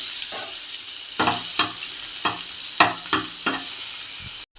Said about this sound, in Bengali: শুকনো লঙ্কা আর জিরে ফোড়নে দিচ্ছি পেঁয়াজ দিয়ে দিচ্ছি